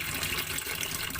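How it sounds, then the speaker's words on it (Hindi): A glass of water is poured into a cooking pot holding cauliflower, giving a brief steady gush of splashing liquid. It is close and loud, with no talk. "तो इसमें 1 गिलास पानी डाल देते हैं।"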